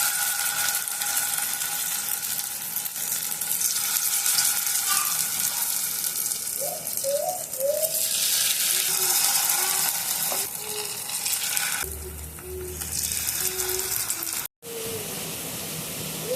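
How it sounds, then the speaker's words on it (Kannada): Marinated paneer pieces roasting in hot oil in a tawa pan give a steady crackling sizzle with occasional louder spits and stirring scrapes, close and continuous, with no voices. "ಇವಾಗ ಒಂದೊಂದೇ ಪನ್ನೀರ್ ಪೀಸ್ನ ಪ್ಯಾನ್ಗೆ ಹಾಕಿ ಚೆನ್ನಾಗಿ ರೋಸ್ಟ್ ಮಾಡೋಣ."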